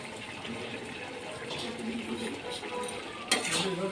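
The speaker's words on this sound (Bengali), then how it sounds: "এবার এটাকে ভালো করে নেড়ে নিচ্ছি" Vegetable shukto curry being stirred in a pot, a steady wet scraping and sloshing with light clinks of a spoon against metal, continuous and close, with a brief sharper knock near the end.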